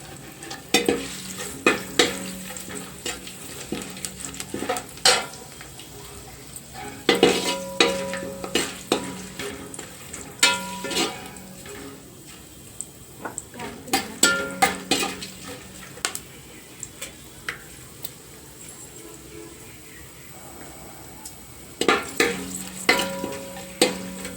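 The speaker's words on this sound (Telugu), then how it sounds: "అదే ఆయిల్లో మనం బిర్యానీ ఆకు, చెక్క, ఇలాచీ, ఇవి ఆల్ బిర్యానీ దినుసులు అయితే మనం ఈ ఆయిల్లో వేపేసుకుందాం." Bay leaf, cinnamon and cardamom fry in hot oil for chicken dum biryani, a steady close sizzle broken by repeated bursts of stirring and the scrape and clink of a spoon against the pan.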